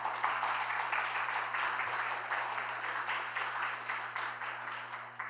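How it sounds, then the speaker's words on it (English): A conference audience at a housing equality event applauds with dense, steady clapping that holds evenly for about five seconds over a low electrical hum, fading slightly at the end. "Please give them a warm round of applause."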